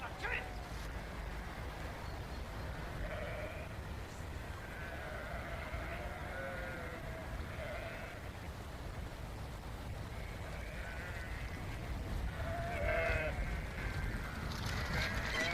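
Sheep on Bronhaelog, a Welsh hill farm, are brought down from frozen hills to shelter by the farm buildings and bleat repeatedly from a short distance. Someone talks steadily over the calls.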